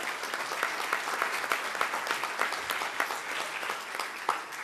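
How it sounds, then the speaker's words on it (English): An audience claps politely at a legislative session update in Osceola County, Florida: a steady, moderately loud patter of many hands with a few sharper individual claps, no talk over it. "I'd just like you all to stand up and give me a golf clap"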